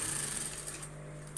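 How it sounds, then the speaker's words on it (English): A sewing machine stitches a line of hip padding into a garment, running steadily and close for a short continuous burst with no talk. "I will go all 6 stitches all the way down"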